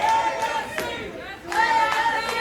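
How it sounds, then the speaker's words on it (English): An arena crowd at a wrestling match keeps up a loud, sustained rhythmic chant with rising and falling voices throughout. "Crowd chanting for Legacy, trying to get him back into this match."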